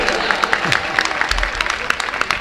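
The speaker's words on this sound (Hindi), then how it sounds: "तालियां बजाइए," Crowd applause at an outdoor fair gathering in Mauranipur after a speech, brisk scattered clapping from a sizable audience, loud and close with a low rumble and murmuring voices beneath.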